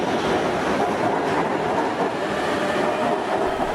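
A Bangkok BTS elevated train rumbles along continuously with a steady roar and faint rail rattle, fairly loud and close throughout.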